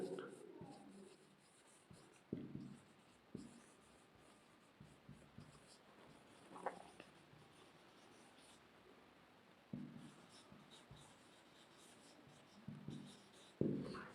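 A pen scratches out an equation by hand during a class 10 maths lesson, with soft intermittent scribbling strokes and taps, close and fairly quiet, in short bursts separated by pauses.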